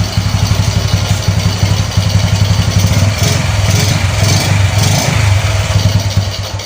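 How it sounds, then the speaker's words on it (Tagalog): A Honda Cub motorcycle with an untuned engine and stock exhaust idles up close, its loud exhaust pulsing in an uneven, wobbling rhythm throughout with no voices over it. "At mapapansin nyo parang wob-wob yung tunog ng tambutso niya."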